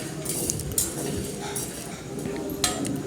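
Sago pearls being dry roasted and stirred in a pan, a close, continuous rattle with metallic clinks and scrapes from the utensil against the pan and a few sharper knocks.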